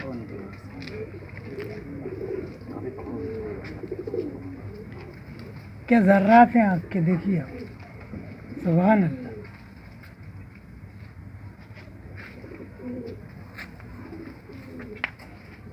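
Feeke Baajre pigeons coo nearby in a few short, throaty bursts over a low background murmur, while someone talks on and off.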